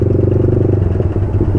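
A Yamaha MT-15 motorcycle fitted with an Akrapovic exhaust and no dB killer rumbles loudly and close, its steady low engine note broken by irregular popping crackles.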